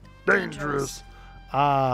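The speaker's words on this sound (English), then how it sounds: "That's my cat." A pet cat gives two drawn-out, tonal meows close by, with a person talking over and between them.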